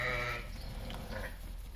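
Young female Arashan elite-breed lambs bleat at a farm in Panfilovka, one clear nearby bleat at the start followed by fainter overlapping calls and background farm noise.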